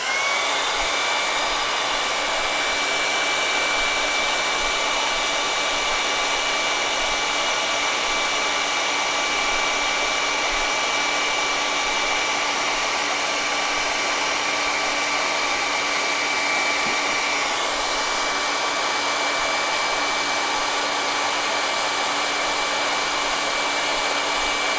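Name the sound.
hair dryer drying a painting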